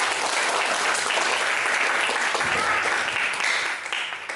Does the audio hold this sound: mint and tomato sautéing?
no